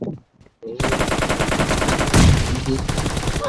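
Automatic gunfire in the mobile battle royale game PUBG Mobile rattles out in loud, rapid bursts after a short quiet start, with a heavier thump partway through.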